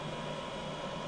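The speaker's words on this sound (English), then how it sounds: "Now that fan noise you can hear is something I wasn't expecting on a domestic charger." Cooling fan of a Wallbox Quasar home EV charger hums in a steady, even whoosh with a faint tonal drone, continuous and close at low level, no voices.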